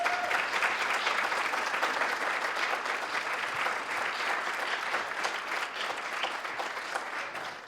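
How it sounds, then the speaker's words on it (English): An audience at a zero waste panel event claps steadily for the panelists, a dense, even wash of applause held at moderate distance and slowly tapering toward the end. "can I get one more round of applause for our amazing panelists?"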